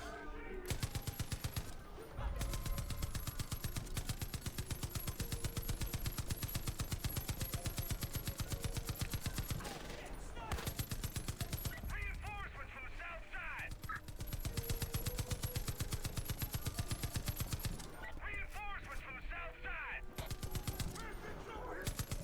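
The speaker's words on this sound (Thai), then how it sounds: "ให้กูมาบังคับปืนตรงนี้สินะ" Mounted gun fired in Far Cry 5, long sustained bursts of rapid automatic gunfire broken by short pauses, loud and close, with voices talking over the shooting.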